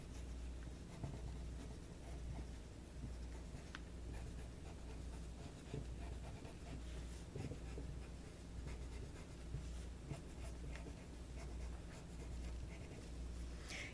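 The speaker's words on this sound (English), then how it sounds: "I would be listening to the sound that the pencil is making when I touch it to the paper." Colored pencil stroking across paper while petals are shaded, a soft, continuous scratchy rasp of repeated short strokes, faint and close, with no voices.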